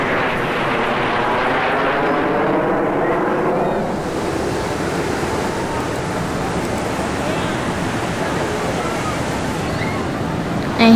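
Aircraft fly in formation through a loop at a beachfront airshow in Huntington Beach, a loud, broad jet roar with a sweeping, shifting pitch, buffeted by wind noise and surf, sustained for the full eleven seconds.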